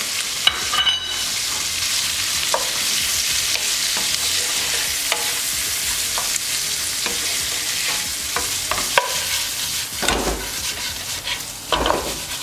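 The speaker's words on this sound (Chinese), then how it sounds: "我们现在把虾子跟处理好的墨鱼条一口气丢进来，煎到上色" Shrimp and squid strips sear in a hot, nearly dry pan, giving a dense, steady, close-up sizzle throughout, with scattered spatula taps and scrapes and a louder stir toward the end.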